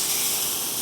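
Steak with a spice rub sizzling on a hot grill after being flipped, a steady, close, loud hiss with crackling texture and no talking.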